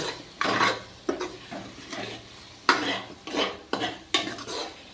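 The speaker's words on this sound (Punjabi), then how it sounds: "ਮਸਾਲਾ ਆਪਣਾ ਬਣ ਕੇ ਤਿਆਰ ਹੈ ਤੇ ਆਪਾਂ ਇੱਕ ਦੋ ਮਿੰਟ ਲਈ ਇਹਨੂੰ ਇਸੇ ਤਰ੍ਹਾਂ ਲਗਾਤਾਰ ਹਿਲਾਵਾਂਗੇ" Masala for cauliflower sabzi is stirred in a pan on the stove: a steady run of close scraping strokes with soft sizzling underneath and irregular bursts roughly every half second to a second.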